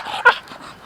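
A single short, high whimper from an American Bully dog rises sharply, then fades, heard close and alone with faint background.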